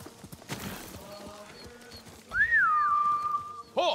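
A horse in the Ghost of Tsushima video game trots in with soft, brief hoof clops, then gives a drawn-out, wavering tonal call that holds steady before a sharp closing burst.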